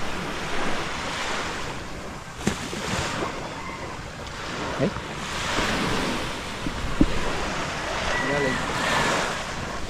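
Ocean waves wash and surge in a broad steady roar with wind buffeting the microphone, heard from aboard a boat returning from sea, with occasional splashes and people talking briefly in the background.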